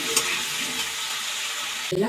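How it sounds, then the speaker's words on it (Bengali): Potato pieces fry in hot oil in a wok with a little salt, giving a steady, close, broadband sizzle throughout, with a brief change in texture at the very end. "কড়াই একটু তেল দিয়ে দিলাম আলুটাকে ভেজে নেব"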